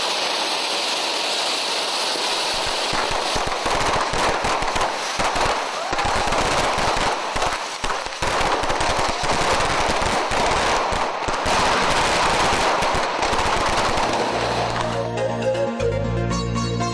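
A fireworks display at a celebration bursts in rapid, crackling volleys, loud and dense, continuing almost without pause before ending in a tonal fade.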